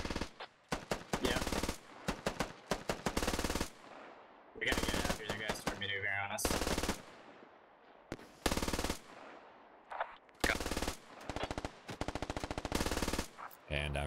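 Automatic gunfire in the video game Squad, in loud, close bursts of rapid shots that repeat through the clip with brief pauses between them.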